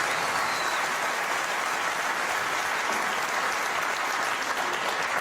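A Crucible snooker crowd in Sheffield applauding a century break, a continuous, even wash of clapping from a large hall audience, sustained at full strength throughout.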